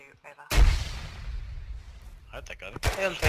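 In Arma 3, a grenade goes off inside a building with a single sharp, heavy blast that rolls into a fading rumble, while players chatter and shout before and after it.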